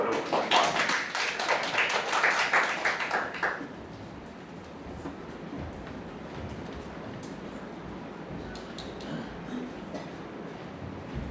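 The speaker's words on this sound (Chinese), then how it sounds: "先热烈的掌声欢迎蔡宗仁老师做入场" An audience at an academic lecture applauds to welcome the lecturer: dense, bright clapping fills the first few seconds, then stops abruptly and leaves quiet room tone.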